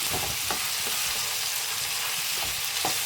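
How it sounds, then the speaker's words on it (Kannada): Capsicum frying in oil in a home kitchen pan for a mushroom egg curry, a steady close sizzle with a few soft stirring scrapes and no voices. "ಆಯಿಲಲ್ಲೇ ಸ್ವಲ್ಪ ಫ್ರೈ ಆಗಲಿ"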